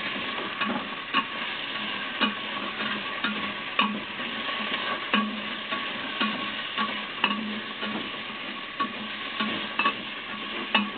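Pork with garlic and onions sautés in a pan, a soft continuous sizzle broken by regular, distinct scraping stirs about every second or so.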